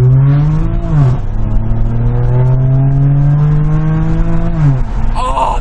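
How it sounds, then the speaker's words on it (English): A car engine revs loudly up close, its droning pitch dipping and climbing twice as the throttle is worked, steady and powerful. "Oh, this car sounds so good."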